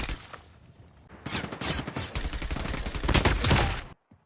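Rapid bursts of gunfire in Call of Duty Mobile (Season 11) aimed at a bot, loud dense volleys building toward the end, then cutting abruptly to silence.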